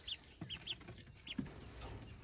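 Blue-colored chickens in a backyard garden give several faint, scattered clucks at an uneven pace, heard from a distance against soft outdoor background noise.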